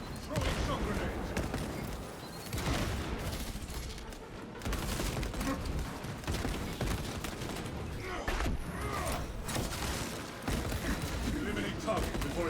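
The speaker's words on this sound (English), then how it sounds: "Throwing shock grenades." Shock grenades exploding in the video game Space Marine 2, a dense run of loud booming blasts and rapid gunfire that barely lets up, with voices talking over the battle.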